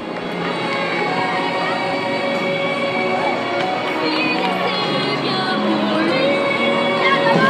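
A crowd at the Saint Nicolas parade in Épinal murmurs and cheers in a continuous, even hubbub, with scattered voices and occasional higher calls rising from the dense background.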